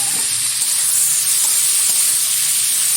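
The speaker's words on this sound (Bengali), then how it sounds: "দিয়ে দিচ্ছি এবার বেছে রাখা চিংড়ি মাছ।" Prawns hitting a hot pan of onion curry and frying with a loud, steady hiss and sizzle that holds evenly throughout.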